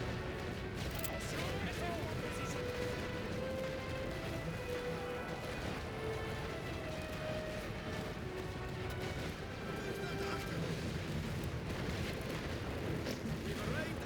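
Creeping artillery barrage in the First World War strategy game The Great War: Western Front, a constant dense rumble of distant shell bursts and booms with a voice talking over it.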